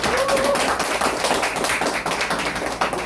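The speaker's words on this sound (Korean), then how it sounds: "다 같이 박수 한번 치겠습니다" An audience at an academy opening ceremony claps together in a lively, sustained burst of many hands, close and fairly loud throughout, with a brief tone near the start.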